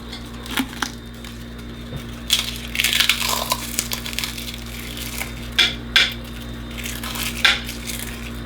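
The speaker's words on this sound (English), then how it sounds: "I'm going to crush some of these guys up and put them in as well." Ingredients crushed by hand over a pot of grouse and wild mushroom soup on a cast iron stove setup, giving scattered crunchy, crackling bursts and a few sharp clinks over a steady low hum.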